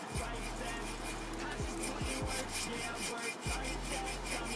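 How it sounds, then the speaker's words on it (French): A scraper dragged across a moped wheel rim, peeling off softened paint in repeated rough rubbing strokes, close up over a low steady hum, with a few short pauses between passes. "si on prend la gratte et qu'on y passe un coup, vous allez voir que tout va partir d'un coup"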